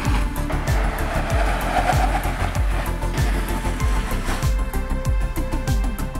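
A 2022 Lancia Ypsilon Hybrid under emergency braking, a loud, steady tire and road roar with repeated low thumping pulses and a faint squeal throughout.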